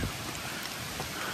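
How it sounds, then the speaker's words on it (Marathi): Steady rain falling through thick monsoon forest in the Sahyadri hills, a dense even hiss of drops throughout a brief stretch, with no voices. "पाऊस पडतोय, ओढे नाले अवघडपणे वाहत आहेत"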